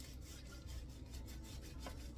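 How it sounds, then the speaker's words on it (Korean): Short rhythmic rasps of a knife sawing through hard anchovy kimbap, several quick strokes in a row, close up and quiet. "톱질하듯이 끝까지 칼집을 넣어주세요"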